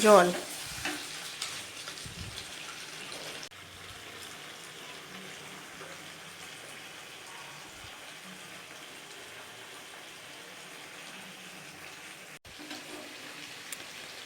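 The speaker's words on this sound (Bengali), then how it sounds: "জল এর মধ্যে দিয়ে দেব এখন পরিমাণ মতো জল" Water poured into a pan of Bengali-style country chicken curry, with a loud splash and sizzle at the start that settles into a steady low bubbling simmer, close and without speech.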